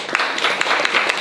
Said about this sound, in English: So round of applause for Anderson.